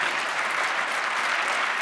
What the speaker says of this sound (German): Also einen Applaus für die Ösis.